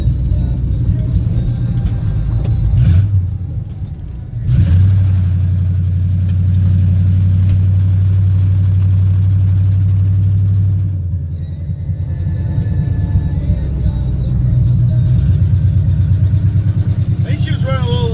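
A Chevrolet C1500 shortbed truck engine with loud open headers, a deep rumbling idle that rises in a rev and settles back, loud and close, with a voice speaking over part of it.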